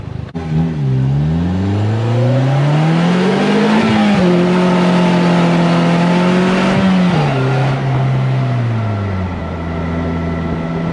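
A Slingshot SLR three-wheeler engine revs hard, its pitch climbing and then dropping sharply as gears shift, loud and close, with sustained high revs between the shifts and no talking.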